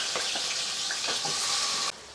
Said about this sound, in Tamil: கடுகு உளுந்து போட்டுக்கலாம்,